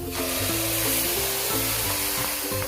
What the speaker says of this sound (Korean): 잠시 익고 있었던 홍고추까지 다 넣은 후에 볶아주세요